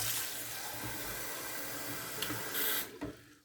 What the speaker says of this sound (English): I'm going to refill the mug up just in case we need to add more water to our lather